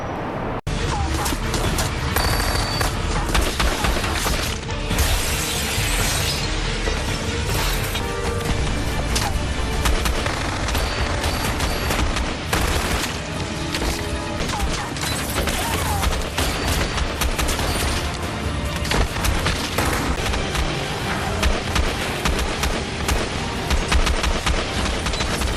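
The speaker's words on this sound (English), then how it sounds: "Show us what you can do with the M4" Navy SEALs fire M4 rifles at a blast range in rapid, loud, sustained bursts of close gunfire with sharp cracks and echoing reports running almost continuously, with some talk mixed in.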